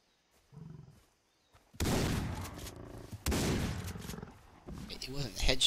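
Gunfire while hunting buffalo in Far Cry 3, two loud booming shots with lingering rumble after a brief spoken bit, followed by further noisy game sounds.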